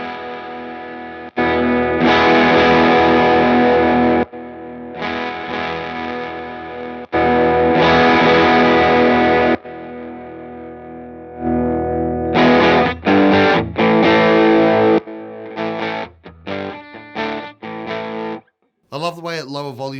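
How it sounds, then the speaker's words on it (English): Distorted electric guitar run through an MC Systems NKM Dynamic Drive pedal, a fuzz-like overdrive, playing loud sustained chords in bursts separated by short gaps, then choppier, sputtering notes toward the end. "at lower volumes it sounds like it's starting to sputter like a fuzz with a flat battery"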